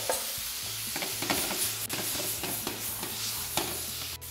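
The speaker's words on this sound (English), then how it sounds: "You want it kind of to sear, just sear on the outside" Beef steak cubes sizzle hard in a very hot pan, a steady loud frying hiss with rhythmic scraping and tossing throughout, close up and without talk.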